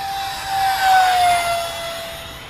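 A Freewing F9 Panther RC electric ducted-fan jet on an 1800 battery makes a high-speed pass, its steady whine rising to a peak near the middle and then falling away with a slight pitch drop, with no voices.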